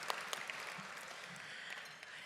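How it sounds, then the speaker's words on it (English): Applause from a dinner audience in a banquet hall, a steady, fairly faint wash of clapping with a few sharper individual claps standing out. "I'd ask you to hold your applause"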